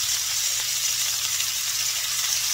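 Chicken frying in a cast iron skillet with a steady, close sizzle and crackle of hot grease, continuous and even throughout with no talking.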